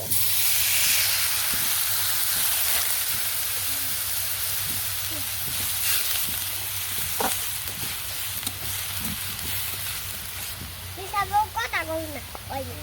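Water splashed over chopped garlic in a hot pan hisses with loud steam that gradually settles into a softer sizzle, with a few stirring knocks and a brief voice near the end.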